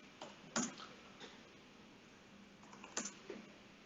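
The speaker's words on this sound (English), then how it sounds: "Simple matter of deleting these by typing del from a DOS prompt" A few scattered keystrokes on a computer keyboard at a DOS prompt, quiet and close, with sharp isolated clicks separated by pauses and no talking.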